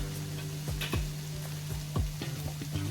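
Vegetables sizzle steadily in a hot pan while being stirred for radish greens cooked with dried shrimp, with a constant frying hiss and occasional soft scraping strokes from a spatula, close and moderately loud.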